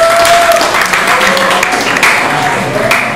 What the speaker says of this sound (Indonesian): Tepuk tangan untuk Bung Farai.